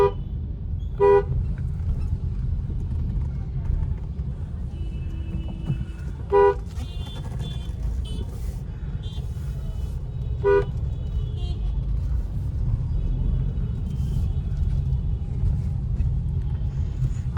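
Heavy city traffic rumbles steadily and close, with several sharp car horn toots scattered through it, spaced a few seconds apart, and a few fainter horns further off, with no clear talk.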